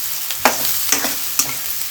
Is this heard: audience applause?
no